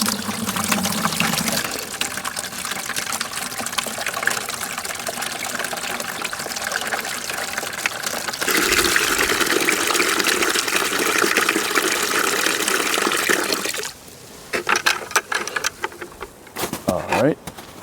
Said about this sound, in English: We've filled the 35-gallon tank with sap.